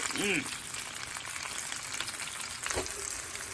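Pork chops and potatoes fry in a pan, a steady crackling sizzle throughout, with brief clanks from stirring and a faint voice near the start.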